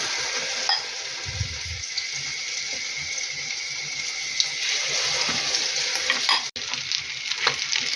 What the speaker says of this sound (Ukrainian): І ставити тепер смажити.